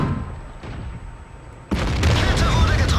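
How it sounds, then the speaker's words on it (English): Artillery shells burst close by a tank in World of Tanks: a heavy sudden boom lands after a quieter rumbling stretch, followed by sustained loud crackling and debris noise. "Artillery is hitting me now."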